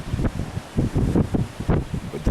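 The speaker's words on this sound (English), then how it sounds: "Just too windy out here for me." Strong gusts of a wind storm in Victorville, California batter the microphone with a deep, steady buffeting roar that surges and dips throughout.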